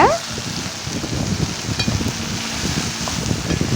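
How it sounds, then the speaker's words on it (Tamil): Chopped ivy gourd sautés in a hot pan with a soft, steady sizzle and occasional stirring scrapes, fairly quiet and continuous with no talking over it. "நல்லா வதங்கட்டும் இந்த கோவக்காய்"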